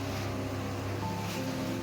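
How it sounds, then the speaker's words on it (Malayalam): A motorboat speeds across the sea off Benoa Beach in Bali, its engine droning steadily under the constant wash of water and wind, fairly close and even throughout. "ഞങ്ങളുടെ കൂടെയുള്ള മറ്റേ ബോട്ടാണ് ഈ സ്പീഡിൽ വന്നുകൊണ്ടിരിക്കുന്നത്"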